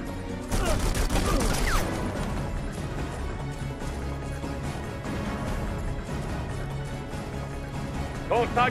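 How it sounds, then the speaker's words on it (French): Sustained automatic machine gun fire during a firefight in the video game Conflict: Denied Ops, dense rapid bursts with impacts running steadily throughout, mixed with game effects and voices talking over the shooting. "Une mitrailleuse."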